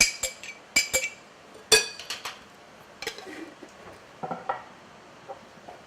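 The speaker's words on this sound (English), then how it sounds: "stir that into the farro and the green beans" Chopped ingredients are stirred into a farro and green bean salad in a bowl, making irregular clinks and scraping taps of utensil against dish, sharp and close, alone without talk.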